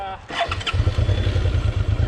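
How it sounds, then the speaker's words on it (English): A Suzuki V-Strom 650 or DR650 motorcycle engine cranks briefly and catches, settling into a loud, close, steady idle rumble. "I really like the just kind of touch the starter and have it go."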